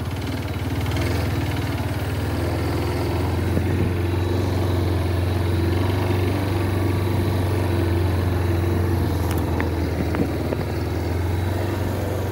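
A motorcycle engine drones steadily in first gear on a rough dirt road. It is close and loud, with a constant low rumble and some vibration, and a few faint rattles over it.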